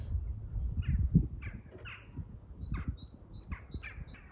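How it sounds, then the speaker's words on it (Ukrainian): Crows or similar birds squawk and caw in repeated short calls near a large castle cliff by a spring river, the calls echoing off the rock over a quiet background with no talking. "Пташок набагато краще чути, ніж там далі."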